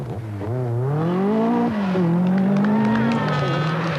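A Peugeot rally car races at speed on the 1985 Monte Carlo Rally, its engine note loud and close, climbing and falling through the gears in a sustained, rising whine.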